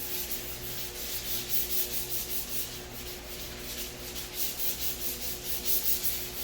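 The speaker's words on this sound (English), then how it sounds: "This Duragold sandpaper, the cheaper sandpaper, it works all right." Steady, continuous rubbing of cheap Duragold sandpaper against an auto body panel, a soft even scratching with a faint rhythmic back-and-forth pulse over a low background hum.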